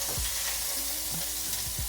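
Beef pot roast browns in a pot with a loud, continuous close sizzle and frying hiss, a few soft scraping stirs cutting through.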